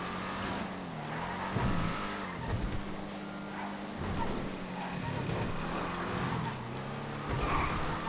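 An Issy V8 compact car in GTA FiveM racing with a droning engine, its brakes locking with short tire squeals and skids as the engine pitch dips and rises between bursts.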